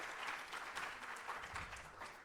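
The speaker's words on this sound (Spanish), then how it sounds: "Recibamos con un fuerte aplauso a Cristian Grisales" Audience applause welcoming a speaker at a Spanish-language talk on the voluntary carbon market, a dense, steady wash of many hands clapping that fills the whole stretch with no talk over it.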